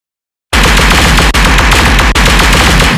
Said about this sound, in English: just using a sampler and post-processing to achieve a loud machine gun sound